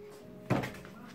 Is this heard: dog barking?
no